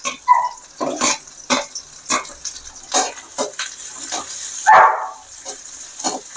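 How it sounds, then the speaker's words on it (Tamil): Onions, curry leaves and green chillies tossed into hot oil for a Chettinad-style dal egg gravy, giving crackling sizzle bursts and stirring scrapes, close and loud, with a stronger splattering sizzle partway through. "வெங்காயம் போட்டுக்கலாம். வெங்காயம், கருவேப்பிலை, பச்சை மிளகாய்."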